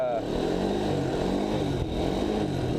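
A small motorcycle, a Kawasaki Z125 Pro or X18, cruising over a rough, uneven road. Its mid-pitched engine drones steadily and close by, with rising and falling harmonics as the throttle shifts, and there is wind noise.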